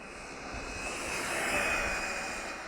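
A Traxxas XO-1 RC car runs at full throttle, giving off a thin, steady electric whine with a rushing hiss that swells briefly and then eases off.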